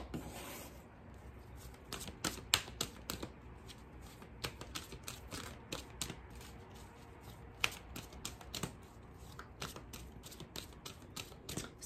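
Oracle cards are shuffled and drawn in a quiet room, a long run of soft, rapid flicks and riffles with sharper snaps scattered throughout.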